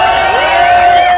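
A crowd at a Kenyan political rally cheers loudly and continuously in a short, dense burst of shouting and whooping, with a sustained tone ringing through it.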